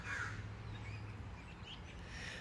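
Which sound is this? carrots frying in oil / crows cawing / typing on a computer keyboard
crows cawing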